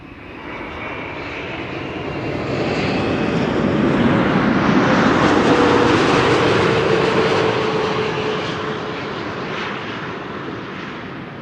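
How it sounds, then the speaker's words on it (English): A LATAM Brazil Boeing 787-9 Dreamliner arrives at Schiphol, its loud jet roar swelling as it passes close by, peaking midway with a whine, then easing off. "In the meantime, LATAM has arrived"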